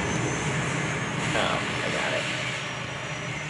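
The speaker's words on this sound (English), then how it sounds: "Helicopter, hang on." A helicopter from Call of Duty Modern Warfare 2 Spec Ops gives off a loud, continuous rotor and engine roar that stays close throughout, while a player speaks briefly over it.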